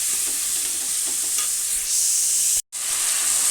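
Food fries in a pan at home, a loud, close, steady sizzling hiss with a few stirring scrapes and a brief dropout near the end; nobody talks.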